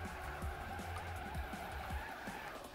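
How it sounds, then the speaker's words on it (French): Car drifting in Trackmania with a long, continuous tire skid over a steady engine drone, loud and close, lasting the whole stretch. "Le drift le plus long de France."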